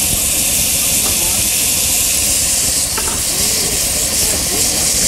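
Bacon, bell peppers, onion and tomato fry in a pan for a pumpkin broth, giving a steady loud hiss and sizzle that runs throughout with a few faint clicks.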